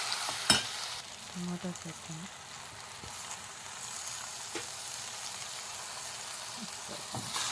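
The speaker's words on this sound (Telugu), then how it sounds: "ఒకసారి కలుపుకొని మూత పెట్టి మగ్గనిద్దాం." Brinjal and tomato curry sizzles steadily in a pan while being stirred, with a sharp utensil clink near the start and a few soft scraping knocks over the continuous frying hiss.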